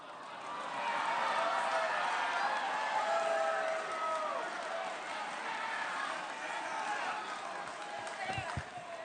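A large crowd at a political rally in Burlington, Iowa, cheering and shouting loudly in a sustained roar, with a voice speaking over it.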